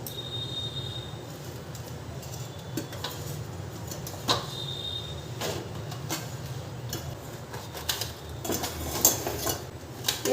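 A knife cuts pointed gourd (potol) into small pieces, giving a run of quick, irregular taps and clicks against a board at close range, with no talking.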